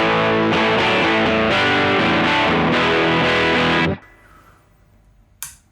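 Electric guitar through a Bogner Ecstasy Blue overdrive pedal on the B1 setting plays a gritty chord riff with rhythmic strums, then cuts off, leaving quiet room tone and a brief click.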